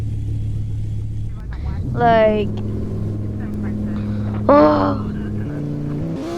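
A game car's engine idles low and steady, then revs up twice in rising sweeps that fall back to idle. Someone speaks briefly over it.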